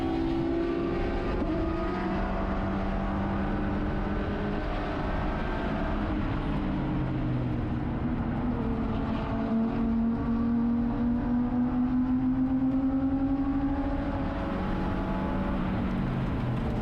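BMW E36 race cars in an endurance race at Willow Springs, engines droning loudly and continuously with rising and falling pitch as the cars accelerate down the straight and shift, heard from inside a car.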